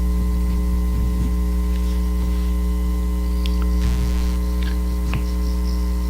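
A repaired bathroom exhaust fan runs steadily after lubrication, giving a constant low electrical hum with faint static hiss and no rattle or buzzing, alone without talk.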